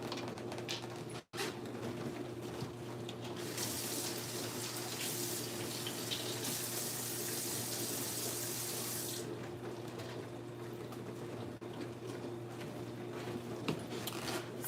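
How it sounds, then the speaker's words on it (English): Kitchen tap water runs steadily into a sink while onions are rinsed, a continuous splashing hiss that swells louder for several seconds in the middle, with faint bird calls in the background. "what we're going to do now is wash these onions up"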